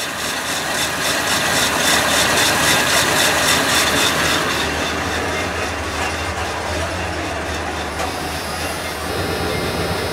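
RV engine with carburetor problems running rough, a loud continuous engine drone with a shaky, uneven pulsing rumble throughout.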